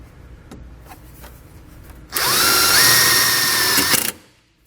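A power drill driving a screw to secure a breaker on a towed-vehicle battery charge line kit, a loud close whine that runs steadily for about two seconds and then stops abruptly, after a few quieter clicks and handling sounds.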